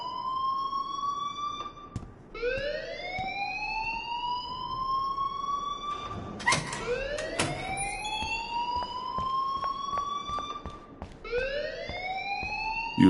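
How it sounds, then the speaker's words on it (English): A repeating electronic alarm wails in Life is Strange, each tone sweeping upward and then holding before restarting every few seconds, shrill and insistent, with a few clattering knocks mixed in. "please turn off that alarm since that's your job"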